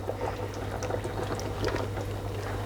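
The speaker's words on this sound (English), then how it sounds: "now that's come up to the boil, we can go straight in with our rice, just in like that" Rice going into a pot of boiling water and being stirred, a steady bubbling boil with soft splashy clinks and stirring scrapes throughout, close and moderately loud with no talking.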